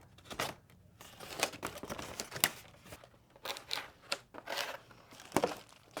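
Packaging around a Baby Lock Solaris Vision sewing machine's embroidery hoop is cut and pulled open, giving a string of close crinkling, tearing and crackling bursts at uneven intervals with no talking.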